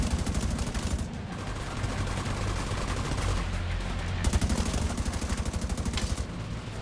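Sustained rapid automatic gunfire in the shooter game The Division 2, dense and rattling across the whole stretch, loud and continuous with only slight shifts in intensity and no voices over it.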